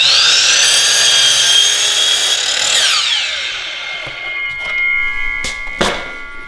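A miter saw spins up with a loud whine and cuts through crown molding, then winds down, followed by a few sharp clunks and knocks up close.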